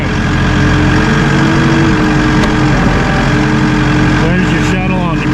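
Steady drone of a Massey Ferguson 2850E compact utility tractor's 48.8 hp engine dropping back to minimum RPM, a loud, continuous close hum with no clear change in pitch.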